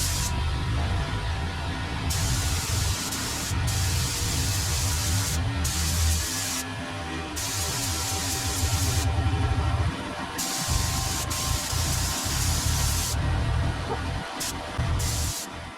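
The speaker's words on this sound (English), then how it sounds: "I'm going to spray like a third coat" Spray gun hissing as it applies SPI epoxy primer to the firewall of a 1955 Chevy, in long continuous bursts with brief pauses between passes, close and loud.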